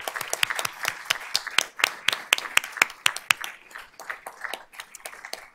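Sparse applause from a small audience at a board of trustees meeting, a handful of distinct, sharp claps rising and falling unevenly and thinning toward the end.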